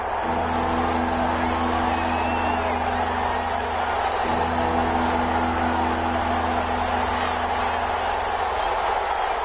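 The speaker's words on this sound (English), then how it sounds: "this crowd's going to get even louder" Stadium crowd noise from a PS4 NFL football game during a divisional round playoff, a steady loud roar with a low hum throughout and a brief dip near the middle, no clear voices on top.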